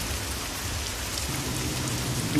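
Steady heavy rain pours throughout a Gujarati animated children's story, a dense, continuous hiss of downpour with a low rumble underneath and no voices.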